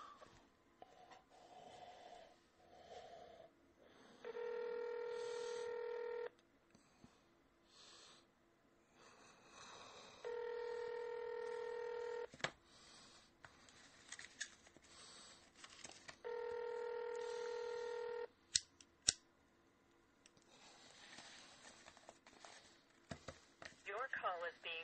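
A phone call goes through with repeated ringback-style tone bursts, about three long tones spaced several seconds apart, between clicks and line noise as the call connects to a Mitel voicemail system.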